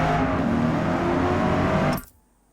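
A car engine in the racing game Forza Motorsport drones loud and steady at a constant pitch for about two seconds, then cuts off abruptly into near silence.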